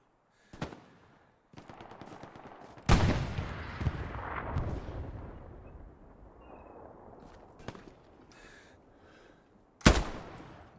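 Gunfire in the World War II shooter Hell Let Loose at night: sharp, loud bursts of shots with rolling crackle, a heavy volley around the third second and another near the end, separated by quieter stretches.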